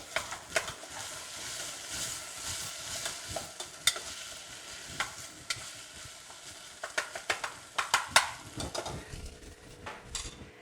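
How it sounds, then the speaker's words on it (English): Onions and aromatics frying in a pan while being stirred: a soft bed of sizzle broken by frequent scraping and clinking of a utensil against the pan, near and fairly quiet, with no talking. "So I've got my onions, my aromatics going."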